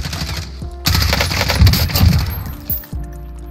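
Rapid dual pistol fire from akimbo X16 handguns in the Warzone video game, a dense, loud burst of quick shots in the middle of the clip, with quieter game ambience before and after.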